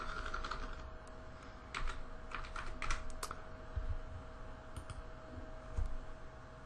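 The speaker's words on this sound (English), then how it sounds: "Oh, I was typing on my keyboard." Keys clatter on a computer keyboard in quick irregular bursts, close and clear over a steady low electrical hum, with no voices.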